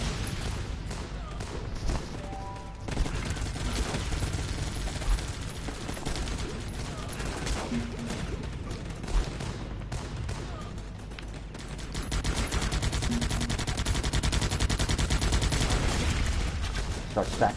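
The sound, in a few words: gunfire from sharpshooters in the video game Guns Up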